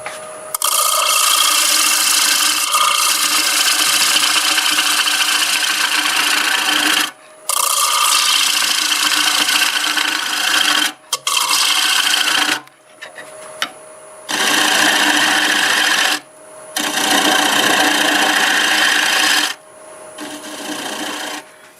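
Lathe turning a black walnut piece, with a gouge scraping and rasping continuously in long loud bursts separated by brief pauses, close and steady; no talking.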